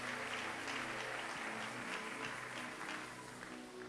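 Church congregation at a service in Matete, Kinshasa applauding, a dense sustained wash of many hands clapping together, loud and steady, tapering slightly toward the end.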